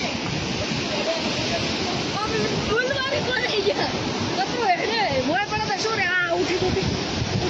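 Loud, steady roar of the flooded Banas river rushing at Dhanera, Gujarat, fills the whole clip, with people talking over it.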